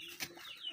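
A young pelung and bangkok crossbred chicken gives a single short, soft cluck, heard nearby against a quiet background.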